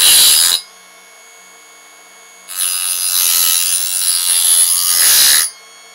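A knife drawn through a Parkside sharpening system, a loud grinding rasp that stops briefly, then two long continuous scraping strokes, heard close up with no talking.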